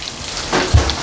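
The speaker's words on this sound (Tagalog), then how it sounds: "May mga patak-patak, may ulan." Rain drips outdoors in a brief, close patter, with one heavier low thud of a drop landing partway through over a soft background hiss.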